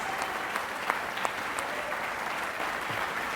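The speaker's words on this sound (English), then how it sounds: "Let's have a round of applause for these guys for their amazing participation." Audience applause for two debate participants at an AI panel event, a steady dense wash of clapping from a crowd holding at an even level throughout, with a few sharper individual claps standing out.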